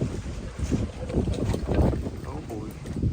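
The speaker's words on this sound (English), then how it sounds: "Here comes that wind." Wind gusts roar and buffet outdoors in Florida, a steady rough rush with microphone buffeting that swells and falls throughout.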